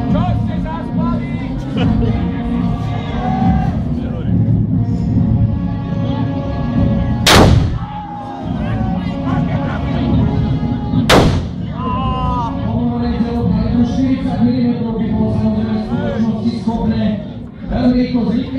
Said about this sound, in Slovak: Teraz môžete vidieť, že palné zbrane i keď sa často píše, že boli neúčinné a nefungovali v daždi, tak fungujú v daždi rovnako účinné ako za sucha